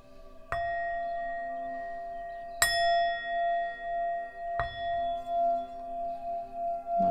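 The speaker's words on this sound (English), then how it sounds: "I'm going to go ahead and ring this bell to return the energy to the divine" A small bell used to close a spiritual reading is struck three times at spaced intervals, each clear ringing tone lingering and slowly fading with a gentle wavering shimmer, alone without speech.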